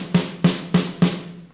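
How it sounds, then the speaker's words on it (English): A virtual snare drum with its top head loosened and tuned down, struck four times at an even pace, each hit loose and sloppy with a rattling tail, alone. "we've loosened up the top head of the snare drum there"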